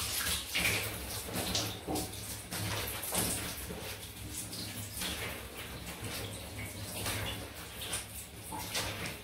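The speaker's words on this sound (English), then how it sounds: "Right, quick rinse." Water splashes and runs steadily as a freshly shaved head is rinsed at a sink, a soft continuous wash of sound close by with no talk.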